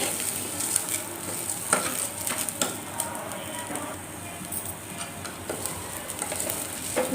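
Lentils (dal) being dry-fried and stirred in a pan for mango dal, a soft continuous sizzle with scraping spoon strokes and occasional utensil knocks, close by, no talking.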